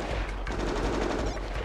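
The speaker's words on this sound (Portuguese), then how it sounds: "Ele tá dando tiro, não sei o que. Tiro na montanha." Rapid gunfire rattles in a Grand Theft Auto V roleplay session, a dense, loud burst of repeated shots with no pauses across the whole stretch, heard close and without talk.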